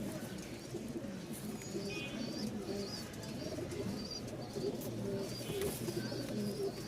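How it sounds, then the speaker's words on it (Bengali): Bashiraj pigeons coo softly and repeatedly nearby, their low throaty calls overlapping with faint chirps and a quiet background hum. "এই দেখেন এই যে ডাক শুরু হইল ফুল মুডে আছে কবুতরগুলা"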